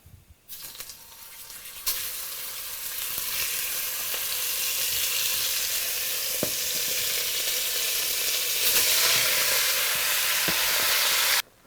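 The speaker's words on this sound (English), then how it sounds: "And this is where you start to brown your meat." Beef browning in rendered bacon fat in a pan, a loud continuous close sizzle that swells after the meat goes in and holds steady, with a few faint clicks.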